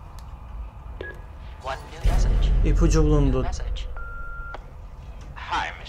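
A telephone being dialed in the video game Until Dawn: a few short beeps and a held electronic tone over low rumble and game sound, with a person talking over part of it.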